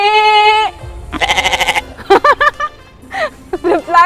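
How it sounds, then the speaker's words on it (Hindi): Goats rescued from sacrifice bleat repeatedly at a goat shelter in Baghpat, several loud, wavering calls close by in quick succession with short pauses between them. "ये है एक बकराशाला जहाँ कुर्बानी से बचाए गए बकरे रखे जाते हैं।"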